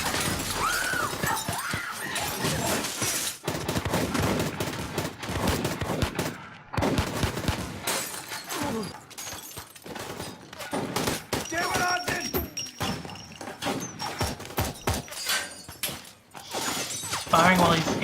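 Gunfire in an episode of The Punisher TV series, bursts of rapid shots and shattering impacts mixed with loud action noise, with voices talking over parts of it.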